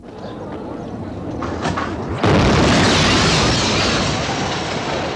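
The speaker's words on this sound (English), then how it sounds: "The explosions hit all parts of the city." A sudden loud bomb blast erupts midway in a city centre after some distant rumbling, followed by a sustained roaring wash of debris and noise; 1972 news footage.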